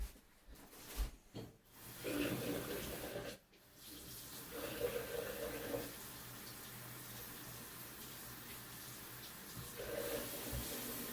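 Tap water runs into a sink during cleaning of newly acquired Peter's banded skinks, with a few short bursts early on and then a steady, moderate flow that swells now and then.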